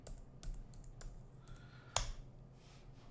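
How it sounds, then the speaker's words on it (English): Keys clicking on a computer keyboard while a command is typed into a Raspberry Pi terminal, a sparse run of soft, close taps with one sharper keystroke in the middle, over faint room hum. "Now we're going to type in"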